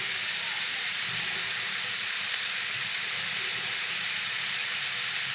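Snake gourd pieces fry with a little salt in a pan, giving a steady, even hiss that holds unbroken throughout with no voices.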